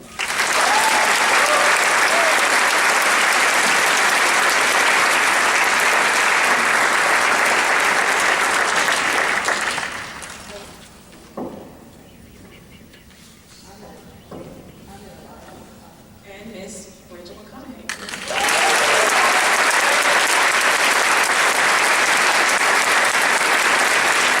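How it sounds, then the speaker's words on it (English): Loud sustained applause from an audience for award recipients at a school awards and senior appreciation ceremony, dropping away for several seconds midway and then swelling back up to full strength. "Please give a round of applause for our recipients, Mr. Jacob Castagna."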